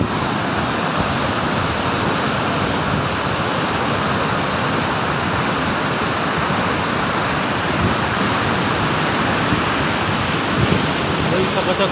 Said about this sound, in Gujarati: અહીંયા તમે જોઈ શકો છો ગેટ, પાણી છોડવામાં આવ્યું છે બહુ બધું